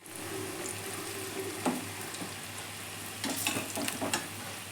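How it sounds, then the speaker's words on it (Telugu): Kaja sweets deep-frying in oil for bellam kajalu give a steady close bubbling sizzle that runs throughout, with a few louder clinks and stirring sounds from utensils near the end. "చేసుకున్న కాజాలని ఆయిల్లో ఇలా గోధుమ రంగు వచ్చే వరకు వేయించుకోవాలి"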